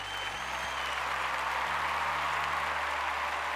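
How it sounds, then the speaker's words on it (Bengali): Loud, dense applause for the accompanying musicians on a Bengali music talent show stage, a steady wash of clapping that holds evenly throughout with a low hum underneath. "এরা জোরে হাততালি"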